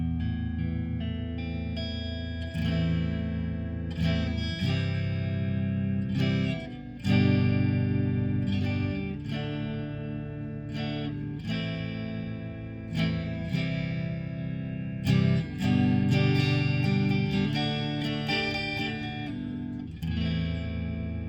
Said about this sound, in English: Fender Select through the Fender twin reverb stack on the twin reverb 68 reissue.